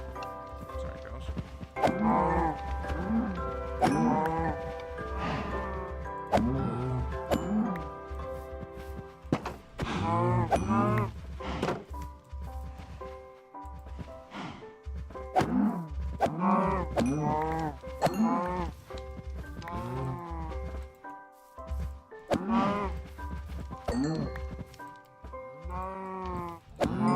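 Cows low again and again in Minecraft, with repeated drawn-out calls in varied pitches sounding close and fairly loud over a soft, steady game background.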